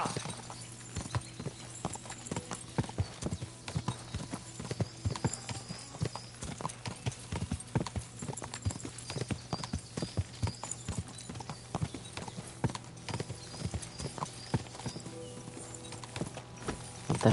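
Horse hooves clip-clopping in the game Kingdom Come: Deliverance 2, a quick, steady rhythm of sharp hoof strikes carrying through the whole stretch over a low constant hum, fairly close and even in loudness.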